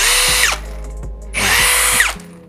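A Tekiro XV 20V cordless drill runs in two steady high-pitched bursts, each whirring up and winding down with a brief pause between, close and loud with no voices.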